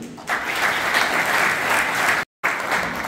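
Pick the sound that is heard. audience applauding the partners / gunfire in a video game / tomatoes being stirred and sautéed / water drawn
audience applauding the partners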